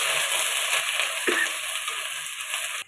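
Green chilies hitting hot oil for a Marathi drumstick-leaf stir-fry, a steady broadband sizzle that holds close and even for a few seconds, with a brief stir midway and an abrupt stop at the end.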